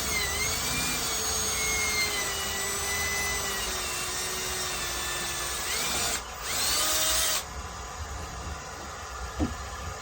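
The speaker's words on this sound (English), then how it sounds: "Go ahead and drill me a hole through this right" A power drill whines steadily and loudly up close, pitch shifting as it bores a quarter-inch hole through cedar, then briefly revs higher before stopping.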